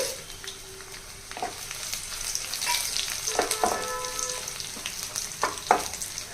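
Garlic cloves and dried red chillies fry in hot oil in a home kitchen, a steady close sizzle and crackle with occasional stirring scrapes and spatters, no talking.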